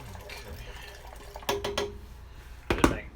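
Water draining out of a front-load washer during a pump replacement for a code 21 fault, a soft trickle and splash under faint room noise, with two short louder sloshing bursts.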